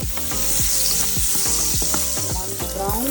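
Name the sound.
garlic frying in olive oil and butter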